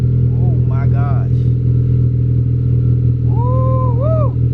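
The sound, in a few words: Honda Civic Si with Invidia exhaust running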